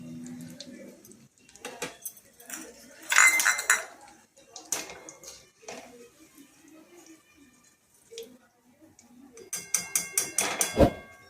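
Fried potato cheese balls being lifted out of a frying pan of oil, with intermittent metallic clinks, taps and scrapes of a utensil against the pan, close up and in scattered bursts with quiet pauses between.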